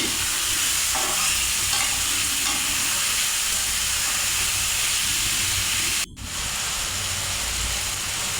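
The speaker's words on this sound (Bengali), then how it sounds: "ধুন্দুলগুলো তেলের মধ্যে ভেজে নেব কিছুক্ষণ এখন দিয়ে মিশিয়ে নিচ্ছি" Ridge gourd pieces frying in hot oil with green chillies in a village kitchen, a steady loud sizzle and hiss filling the whole stretch, with occasional stirring scrapes and a brief dip near the end.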